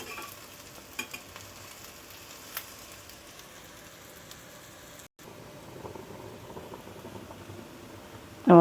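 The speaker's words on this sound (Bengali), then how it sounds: "আমার পকোড়াগুলি ভাজা হয়ে গেছে, এই যে মচমচে আওয়াজ হচ্ছে" Drumstick leaf pakoras crisp up in hot oil with a continuous low sizzle and bubbling, marked by a few sharp clicks from turning them, a momentary dropout, and a loud burst right at the end.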